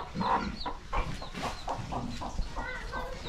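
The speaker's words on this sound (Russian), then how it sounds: "Так, там курица сидит" A hen with her chicks clucks on a Cambodian village farm, giving a string of short, close clucks and peeps at an uneven rhythm, fairly loud, with no speech.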